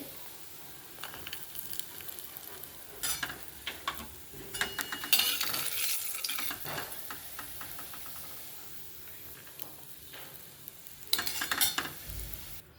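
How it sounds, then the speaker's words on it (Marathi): Cashews roasting in a pan with soft, steady sizzling and occasional scraping stirs and knocks of a utensil, heard alone at close range. "आता हे काजू आपण छान भाजून घेऊया"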